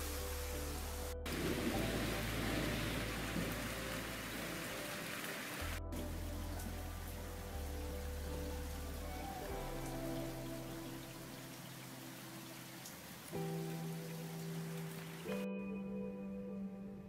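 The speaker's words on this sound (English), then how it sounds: "Got the rain coming." Rain falls in a steady, soft hiss of drops on surfaces, continuous and fairly close, with low hums shifting underneath and no talking.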